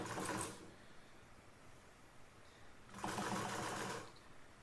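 Serger overlock machine stitching fabric, running in two short bursts with a quiet pause between, close and fairly soft.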